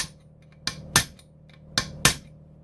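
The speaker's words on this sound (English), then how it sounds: "First, let's try tapping it like this." Metal tapping against a stuck transmission part on a Yamaha YZ125 in a workshop, two pairs of sharp close strikes spaced about a second apart, with the second strike of each pair louder.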